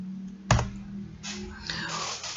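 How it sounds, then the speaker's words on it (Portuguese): Keys clatter on a computer keyboard as commands are typed at a command line, a close burst of clicks after a sharp initial tap, with no voices. "digitando comandos lá na linha de comando"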